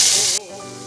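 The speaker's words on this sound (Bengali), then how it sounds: "এবার আমি এই তেলের মধ্যে আলুটা ছেড়ে দেব।" Medium-sized potato pieces hit hot oil in a pan, giving a sharp, loud burst of hissing sizzle that cuts off abruptly after a moment and settles into a quieter, steady frying hum.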